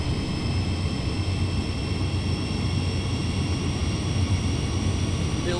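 A CN diesel locomotive engine in Train Sim World 2 drones steadily at high revs, a constant, loud rumbling roar with a hissy broadband edge and no pauses.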